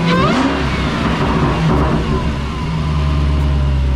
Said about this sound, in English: let's crank her up and hear that beautiful supercharger